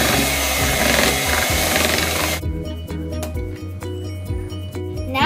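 A hand mixer beats two eggs on low speed, a loud steady electric whir with a rough rattling buzz that shifts to a lighter, clattering hum partway through.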